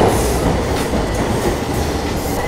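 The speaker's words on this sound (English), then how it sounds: "the train's here" A train rumbles and clatters loudly and steadily at a station in Tokyo, filling the space as it rolls in close by.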